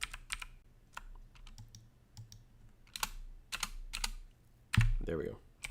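Bursts of computer keyboard typing, uneven clusters of crisp close keystrokes with short pauses between, ending in a heavier thump and a brief vocal sound.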